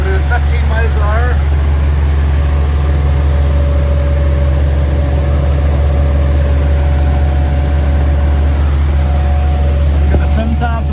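Steady loud diesel drone of a Volvo Penta D4 260HP boat engine holding minimum planing speed, about 15 miles an hour at just over 2,000 RPM, with trim tabs halfway down, while someone talks over it.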